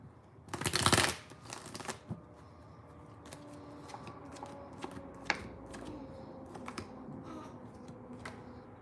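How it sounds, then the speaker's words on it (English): Tarot cards shuffled by hand indoors: a loud riffling burst near the start, then a run of soft, scattered card taps and slides at close range against a quiet background. "I'm shuffling these cards pretty well"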